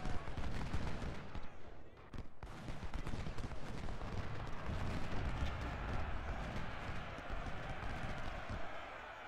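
Cannon and artillery fire from a Civil War battle in the strategy game Ultimate General: Civil War at First Bull Run, a dense, continuous roar of booms and crackling gunfire with rumbling hoofbeat-like clatter throughout.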